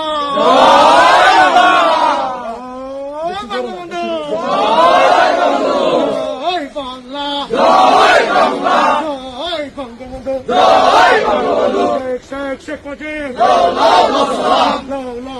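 A large crowd on a street march chants slogans in unison, loud and close, in rhythmic call-and-response waves with short pauses between phrases.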